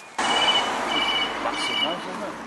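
A bright, repeated ringing blackbird call with a trilling, phone-like quality, heard at moderate distance over steady outdoor background noise in Penarth, Wales.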